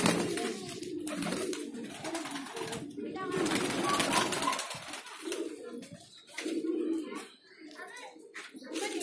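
Pigeons of old breeds kept in Bhopal coo repeatedly in soft, throaty rolls close by, with people talking over and between the calls.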